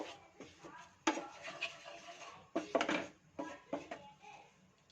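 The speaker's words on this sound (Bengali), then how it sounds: "গোলমরিচের গুঁড়ো দিয়ে একটু নাড়িয়ে নেব" Pepper powder being stirred into a pan for lemon garlic chicken: a spoon scrapes and clinks against the pan in irregular bursts, with a few louder strokes, close and moderately quiet, with no talk.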